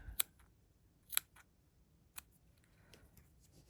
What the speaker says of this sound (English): just going in from the back side and clipping some of those pieces